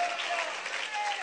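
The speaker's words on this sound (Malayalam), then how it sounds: "പോരാ, ഇത്രയും കയ്യടി പോരാ" Audience applause fills a Christian healing-testimony gathering, a dense, steady burst of many hands clapping close and loud, with no break across the short stretch.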